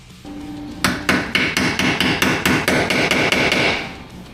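Hammer striking a steel wedge to pop rivets from skid plates on a Can-Am Maverick R UTV: about a dozen loud, sharp metallic blows in a fast, steady rhythm, close up and with no talking.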